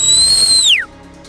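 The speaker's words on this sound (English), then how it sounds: "I'm going to whistle." A hunter on a safari hunt gives a loud, sharp two-tone whistle to stop a game animal. The whistle is held steady, then slides down in pitch and cuts off, leaving quiet.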